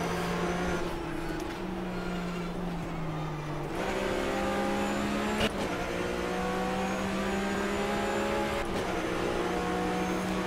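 Race car engine from the Flat6 mod in rFactor 2 drones steadily throughout, revving and shifting with sustained harmonic whine, a sharp rise around the middle, loud and continuous with no talking.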